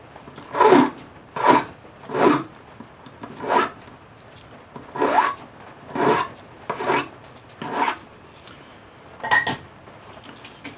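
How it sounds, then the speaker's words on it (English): Rhythmic rasping strokes of a file tapering the end of a metal wire, about ten separate passes at an even pace, close and clear with quiet gaps between. "we're going to file a taper on the end"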